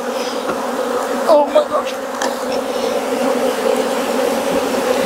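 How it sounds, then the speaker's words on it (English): A dense, continuous buzz of honeybees swarming around beehive boxes after almond pollination, close and steady, while a person briefly exclaims over the drone. "Look at all the bees on the bottom of that box."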